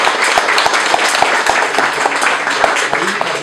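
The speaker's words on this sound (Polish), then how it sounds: "Jeszcze raz brawa." An audience claps steadily through an awards ceremony at a Commodore 64 demo party, a dense wash of applause with no break.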